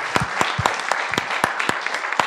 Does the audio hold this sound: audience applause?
yes